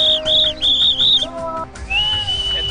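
Barça fans at a football stadium whistling during the Spanish national anthem, with sharp piercing whistles in short repeated bursts and then a long sustained whistle, loud and close.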